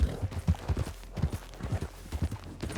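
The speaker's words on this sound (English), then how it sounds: "Should maybe switch out horses, but we'll stick with Kelpie for right now" A horse's hooves clip-clop in a steady, quick rhythm while being ridden in Red Dead Redemption 2, moderately close and alone without talk.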